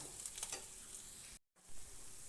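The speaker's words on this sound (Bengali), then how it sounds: "1 চামচ ধনের গুঁড়ো দিয়ে মশলাটা ভালোভাবে মিশিয়ে নেব।" Spice paste with chilli powder and a spoon of coriander powder stirred in a pan for chicken korma, giving a soft continuous sizzle with scraping stir strokes and a brief dropout midway, no talking.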